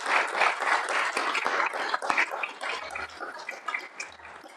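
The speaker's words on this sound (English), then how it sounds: "we'll give them a round of applause" Scattered applause at a school board meeting: a moderate, uneven patter of claps from a modest room that gradually thins out.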